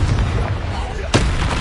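A Confringo fire-blast spell explodes in the Hogwarts Legacy video game, a sharp booming burst near the end over a steady din of battle noise and music, with a voice calling out beforehand.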